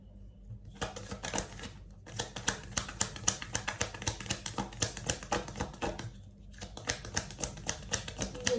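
Tarot cards being drawn and laid out from a deck in a reading, producing a steady run of quick, crisp card snaps and flicks with brief pauses between bursts.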